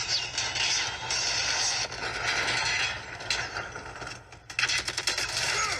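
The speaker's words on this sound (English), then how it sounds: "Predator missile inbound" Rapid gunfire rattles through a video game battle, dense bursts of shots and mechanical clatter with brief pauses, loud and close.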